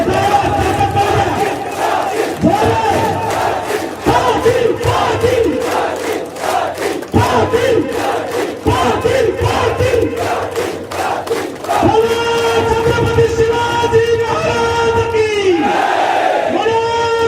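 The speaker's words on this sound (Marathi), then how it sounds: "हात उंचावून, हात उंचावून, हात उंचावून, वाजवा टाळ्या।" A large rally crowd at a Manoj Jarange Patil reservation event claps in loud, rhythmic unison. Chanted voices rise over the clapping, and the chanting swells near the end.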